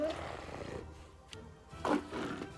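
A wolf in the video game Pathfinder: Kingmaker lets out a couple of growling snarls, loud and close, with a short sharp burst midway and a bigger rasping snarl near the end, with faint game ambience between.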